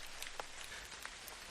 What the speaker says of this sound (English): walks beside her in the rain, which now gets worse